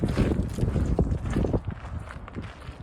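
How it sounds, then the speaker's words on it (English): Strong mountain wind batters the microphone in rough, uneven bursts, with thumping gusts that fade slightly toward the end. "It is so windy, I'm about to blow away right now."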